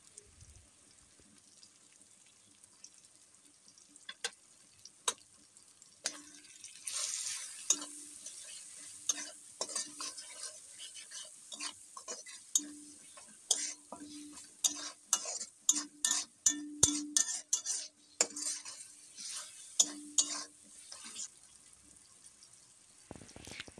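Chicken pieces fry in a pan with chilli powder and Kashmiri chilli powder, a low sizzle under sharp, irregular scrapes and clicks of a spatula stirring the pan, growing busier in the second half.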